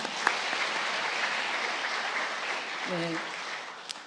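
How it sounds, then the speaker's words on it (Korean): A congregation applauds during a children's department dedication service at a Korean church: dense, sustained clapping fills the room at moderate level, with a brief voice cutting in near the end. "박수 한번 쳐주시죠"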